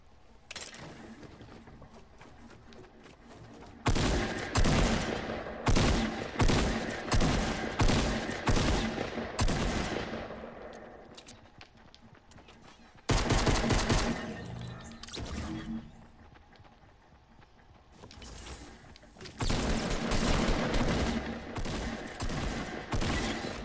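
Grenade launcher firing in a Fortnite match, bursts of rapid booming shots and explosions in loud clusters separated by quieter gaps, with chaotic crashing between volleys.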